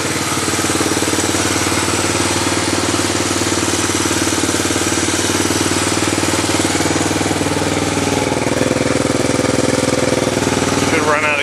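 1985 Honda Fourtrax 250 ATV engine running close by, a loud, steady, rapid thumping idle throughout with a slight shift in tone near the end.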